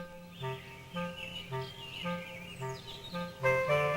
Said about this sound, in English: There were birds